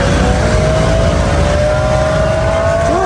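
The speakers' own car engine running steadily and loudly up close, with a rising, droning tone that suggests a rev or acceleration while stopped on a road heading up a bridge.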